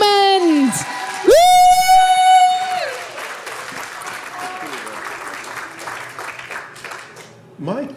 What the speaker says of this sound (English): massive round of applause for Paul Diamond